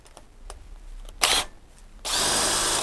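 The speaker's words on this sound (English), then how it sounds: "Let's put the drill on it." A power drill stripping copper cable whirs in two short bursts, a brief spurt and then a longer sustained run, with light clicks and scraping beforehand.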